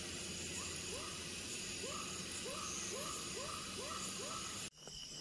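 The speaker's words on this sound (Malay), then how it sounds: "kedengaran bunyi-bunyi hidupan liar di dalam hutan, seperti burung hantu dan sebagainya lah" Soft, repeated owl hoots come at a steady pace over a constant hiss of night insects and forest ambience at Bukit Tujuh, ending with a sudden cut.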